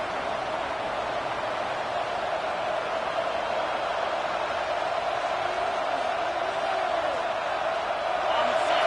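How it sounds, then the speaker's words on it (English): A stadium crowd roars steadily at a football game, the noise swelling behind the defense in a loud, unbroken wash that builds slightly toward the end, with a commentator's voice faintly in the mix. "Listen to this crowd just shaking the girders of this place, trying to help their defense"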